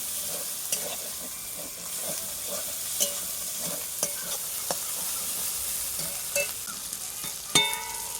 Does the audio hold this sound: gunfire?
no